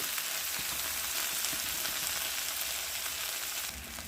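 Chopped tomatoes frying in a pan, a dense continuous sizzle with soft popping and occasional stirring, close and fairly loud, shifting slightly near the end.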